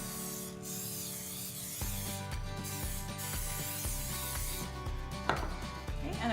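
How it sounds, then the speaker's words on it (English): Nonstick cooking spray is sprayed onto two loaf pans in a home kitchen, making steady airy hissing bursts with a few light clicks over soft background music. "I'm gonna spray 2 loaf pans with some nonstick cooking spray"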